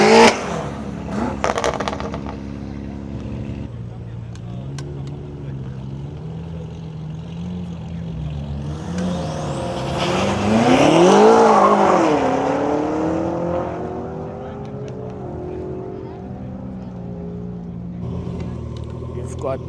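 BMW F90 M5 and Audi RS4 drag racing at a private track day: engine drone builds into a loud surging rev sweep mid-way, then eases back to steady running, with voices talking throughout.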